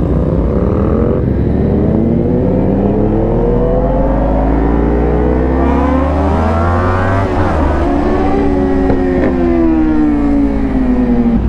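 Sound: Kawasaki Ninja motorcycle engine revving loudly

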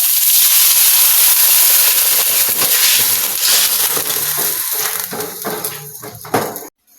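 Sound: garlic sautéing in a pan

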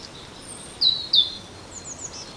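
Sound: birds chirping in woodland

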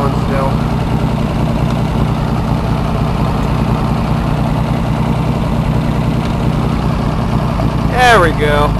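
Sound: engine of new log skidding machine running

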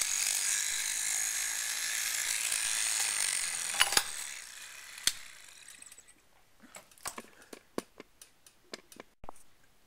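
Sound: homemade toy electric motor running

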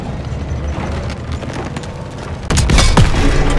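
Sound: explosion destroying a building, Call of Duty: WWII video game

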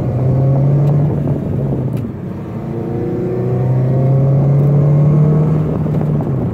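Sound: 2006 Honda Civic Si accelerating and shifting gears

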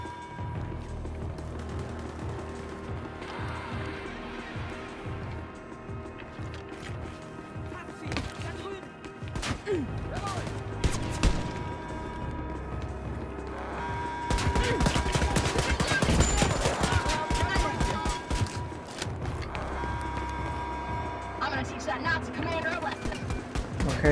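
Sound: gunfire from shooting Nazis in Wolfenstein: Youngblood video game

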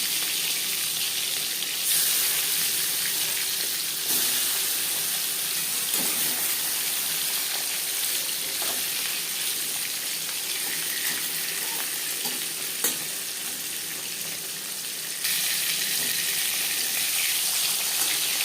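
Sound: marinated silver carp frying in hot mustard oil

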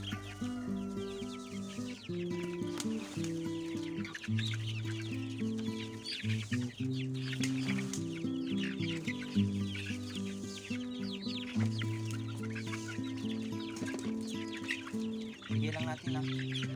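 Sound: chicks clucking while eating feed

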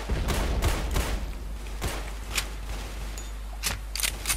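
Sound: gunfire in the Roblox video game War Simulator

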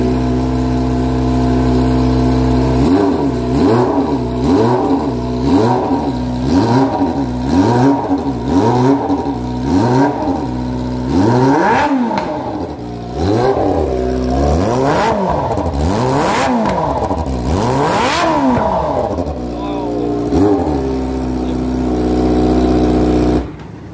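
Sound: Kawasaki ZX25R motorcycle revving with Yakuza GP exhaust

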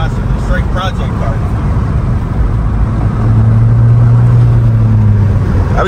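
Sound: modified Nissan Maxima project car engine

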